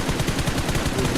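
Rapid automatic gunfire from the BGMI battle royale game during a championship match, a continuous stream of close sharp shots in quick even rhythm with no pauses.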